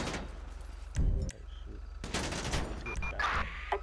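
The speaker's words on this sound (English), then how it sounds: "gunshots reported on North Clawfia Way and Amsterdam, possibly KIA, shots fired" Gunfire in GTA V during police tactical gameplay, with bursts of shots at mid distance, some overlapping in a fusillade, mixed with game sounds and talk.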